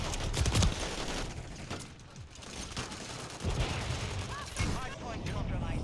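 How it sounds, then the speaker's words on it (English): A cruise missile strike in Call of Duty rumbles alongside a steady stream of gunfire bursts and distant booms, loud and chaotic throughout with a player talking over it. "Okay, got the cruise missile finally."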